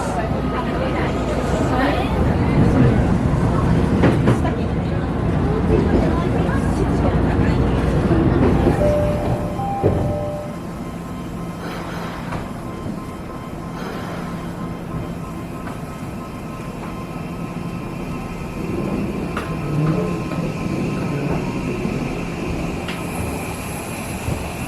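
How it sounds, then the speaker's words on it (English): An Odakyu Romance Car train passes on the line near Hakone, a loud rushing rumble that fades after about ten seconds into quieter background noise, with people talking. "There goes one of the romance car trains."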